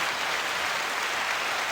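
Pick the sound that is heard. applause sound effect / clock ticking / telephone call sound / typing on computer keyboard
applause sound effect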